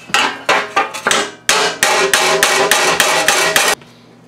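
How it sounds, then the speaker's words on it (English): Loud, close hammer blows on the firewall of a 1935 Ford truck ring out in a quick series of about a dozen sharp metallic strikes, then stop abruptly. "the camera bounces a lot when I'm pounding with the hammer"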